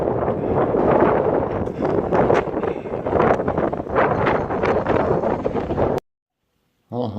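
Wind blowing outdoors on a wild, gusty day during wood carving, a loud rushing roar buffeting the microphone for about six seconds before it cuts out abruptly.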